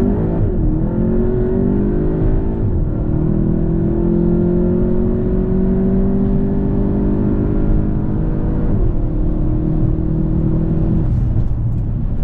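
A Volkswagen Golf 7.5 with a Stage 1 tune revs hard and steadily, its engine note droning loud and close while the traction control cuts in and briefly dips the pitch a couple of times.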